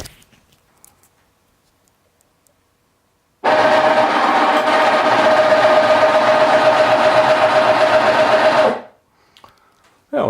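A motorised glass lifter on an Energy Com table drives back to its start position, giving a steady mechanical hum with a faint whine that starts abruptly, holds evenly for about five seconds and then cuts off.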